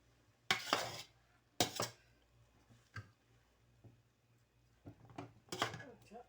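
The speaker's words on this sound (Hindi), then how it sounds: "हल्के हाथ से इसे मिक्स कर लो।" A utensil clanks and scrapes against a pan in a few separate strokes while Chinese rice is gently mixed. The knocks are close and fairly quiet, with soft stirring noises and pauses between them.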